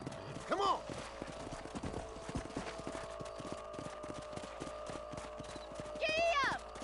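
Rhythmic clip-clop of horse hooves galloping in a Western-style video game, steady throughout, with a voice talking and a horse whinnying near the start and end.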